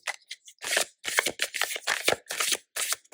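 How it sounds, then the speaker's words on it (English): Guidance cards are shuffled by hand in quick, close bursts of papery riffling and slapping, with short gaps between each burst. "So you can give them a shuffle."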